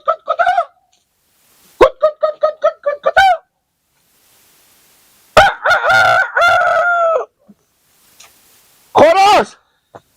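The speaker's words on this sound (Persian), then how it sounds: "خروس" A fighting rooster gives several loud, close bursts: a quick run of clucking calls, then a long, ragged crow and a shorter final crow, separated by silent gaps.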